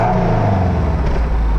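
A car with a stock exhaust revs up close by in a single steady burst, a low droning engine note that swells and holds for a moment with no voices over it.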